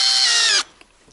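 An ice auger drills a hole through lake ice for burbot fishing, giving a loud, close, harsh grinding whir that cuts off abruptly partway through, followed by faint scraping.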